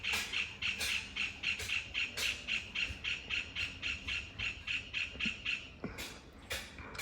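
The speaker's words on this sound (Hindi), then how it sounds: "हमारे यहाँ पे ना रोज़ ये वाला एक नया बर्ड आता है, और इसकी आवाज़ देखो, चुक चुक चुक चुक" A long-beaked bird visiting a home repeats a sharp, squawking chuk call in a fast steady series of about a dozen notes, fairly close, then a few louder separate cries near the end, with no talk.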